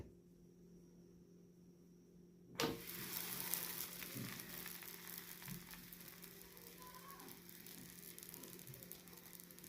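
A methi paratha is set down on a hot pan and starts sizzling and frying, the sound jumping up abruptly after a quiet hum and holding as a steady, close crackle.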